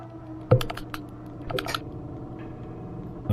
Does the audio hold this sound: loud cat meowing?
no